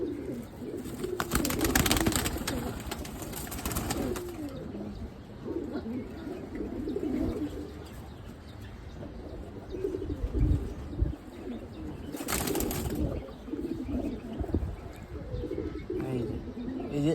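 Pigeons kept by a pigeon fancier coo softly and repeatedly nearby, with bursts of wing flapping around two and twelve seconds and low background noise.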